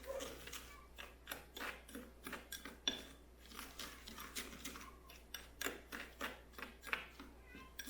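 Brown butter cookie dough being mixed with apple pie spice in a bowl, giving a steady run of quiet scraping and clinking strokes in an uneven rhythm, close by and faint, with no talking.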